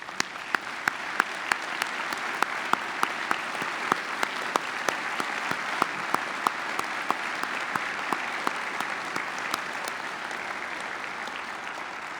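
Steady audience applause for student preachers at a commencement ceremony, a dense wash of clapping with sharper individual claps standing out, sustained and even throughout without speech.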